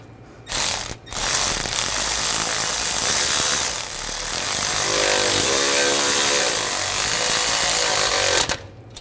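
A ratchet snugs down the brake caliper bolts on a BMW 328i, a loud, rapid mechanical clicking that runs almost continuously with a couple of brief pauses, close up and with no talking.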